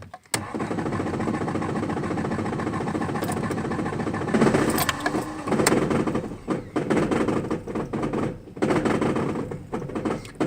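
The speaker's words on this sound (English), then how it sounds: "And that's me pressing the gas pedal again." Engine of a car with a 22R-TEC motor and a newly replaced head gasket, running in neutral, revving as the gas pedal is pressed, with a steady roar that breaks into rough, stuttering surges and popping toward the end, close by and alone.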